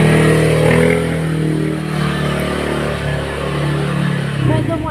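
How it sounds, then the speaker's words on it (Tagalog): A motorcycle engine revs and passes along a street, its rumbling drone steady throughout and swelling slightly near the end, with people talking over it. "May dumaan po kasi motor."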